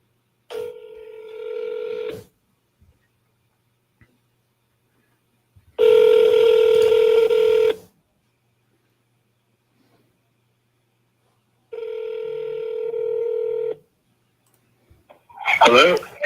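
Three separate bursts of phone dialing and ringback tones come over a telephone line during a real-estate seller call, each burst about two seconds long with silent gaps between. A brief crackle follows at the end.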